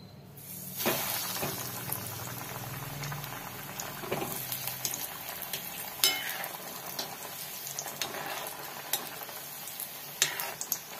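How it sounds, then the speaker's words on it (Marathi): Oil heating in a pan on a stove, a soft crackle and sizzle with scattered pops and light clinks against a steady hiss, fairly quiet and close, with no talk. "इथं तेल ठेवलेलं आहे मी तापत"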